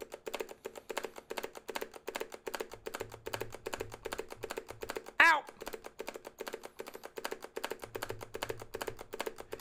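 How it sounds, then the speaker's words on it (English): Steady, rapid computer keyboard clicking runs throughout at moderate volume, with a brief louder burst partway through and a faint low hum coming and going underneath. "I forgot that you can hear the clicking."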